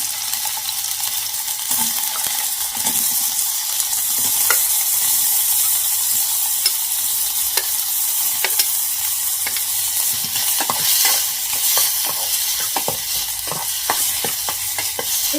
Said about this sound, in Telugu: పన్నీర్ కొద్దిగా మనము నెయ్యిలో ఫ్రై చేసుకుంటే కొంచెం బాగుంటుంది